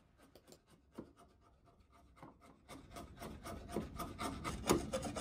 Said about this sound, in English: I'm just going to fine tune them with a nice chisel.